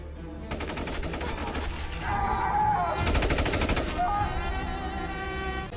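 Rapid bursts of automatic gunfire from a war film scene set in the Iran–Iraq war, loud sustained volleys in two heavy waves over a low rumbling background.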